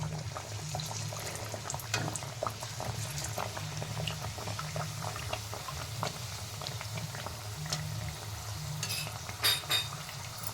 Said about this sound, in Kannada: ಈಗ ಎಣ್ಣೆಯಲ್ಲಿ ಕರಿಯೋಣ